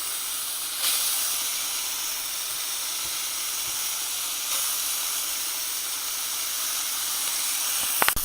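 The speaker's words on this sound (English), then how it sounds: "you want to add in your chopped onions" Chopped onions dropped into a pot with ham give a steady, fairly loud broadband hiss and sizzle throughout, with a couple of brief clatters near the start and end and no talking.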